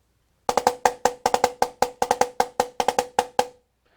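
Rapid drum strokes in tight doubled pairs played as 32nd notes, a fast even stream of crisp hits on one drum for about three seconds, played alone.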